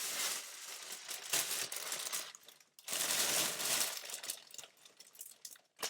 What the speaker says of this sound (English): Apologies for the noise because it's a bit crinkly.